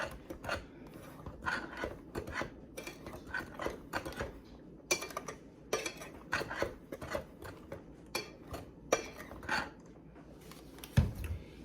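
Cake batter with baking powder is mixed in a bowl for a pineapple pecan cake, with soft, steady scraping and tapping strokes repeating irregularly, quiet and close, without speech.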